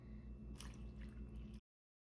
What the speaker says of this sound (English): Now let's pour in the water.